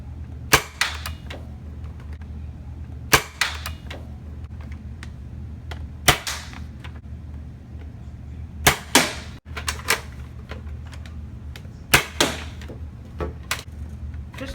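Nerf blaster firing Yosoo FVJ foam darts, single sharp snapping shots spaced a few seconds apart, loud and close against a low steady background hum.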